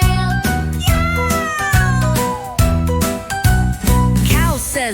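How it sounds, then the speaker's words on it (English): A cat meows clearly several times over a repeating musical backing with a steady beat and a light jingle, part of a children's animal-sound song; the meows stand out loud and close above the music. "Cat says meow, chasing her trail."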